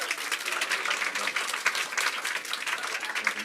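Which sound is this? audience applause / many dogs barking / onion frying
audience applause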